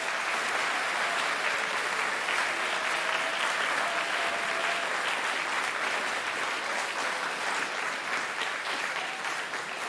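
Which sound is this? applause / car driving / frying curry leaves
applause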